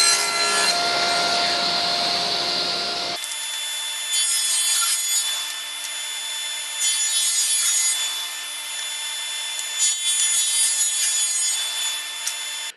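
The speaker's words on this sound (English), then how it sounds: "to cut those thin strips, I've got my thin strip guide here in the table saw" A table saw runs with a thin strip guide set up, cutting thin strips of wood in a loud, steady whine and rasp that holds for several seconds after a sharp start, with no one talking.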